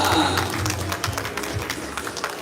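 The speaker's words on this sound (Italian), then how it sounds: "Grande applauso ovviamente anche per la nostra Gloria Torusso" Applause ripples through the crowd at a youth regional boxing event in Veneto, a steady dense clatter of many hands sustained across the whole moment, with a low hum of voices beneath.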